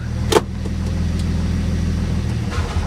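A 1957 Plymouth two-door barn find, parked for over twenty years, runs with a steady, close engine rumble, marked by a sharp click near the start.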